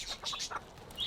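Chickens clucking in a garden, several soft, short calls with a few higher chirps, faint and somewhat distant.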